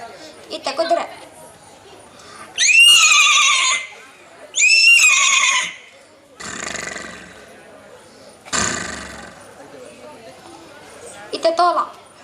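A voice imitates a horse on stage at a cultural event. Two loud, shrill whinnies come close together, followed by a rougher snort, with short vocal sounds around them.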